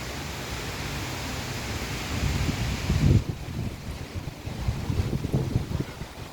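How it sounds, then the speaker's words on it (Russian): Strong wind in Ufa roaring steadily into an outdoor microphone, a dense rushing noise with heavier gusts swelling midway and near the end, loud and close with no talk. "Поливает ветрище."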